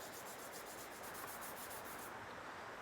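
Cloth rubbing Brutus Monroe blue pigment powder across a surface, a steady close soft scrubbing with rhythmic brushy strokes that smooth into an even hiss near the end.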